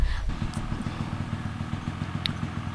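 A motorcycle engine runs in the Carpathian mountains, a steady, rapid low putter of idling pulses, moderately close and alone without talk.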